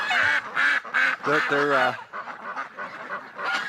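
Geese and ducks honk and quack in a noisy winter flock near a lake, repeated loud calls close by, with someone speaking briefly among them.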